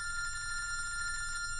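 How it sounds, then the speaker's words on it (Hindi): A phone rings with a steady, sustained bell-like tone, faint and continuous over low background rumble, with no voices during the brief ring. "फोन उठा, मेरा फोन उठा।"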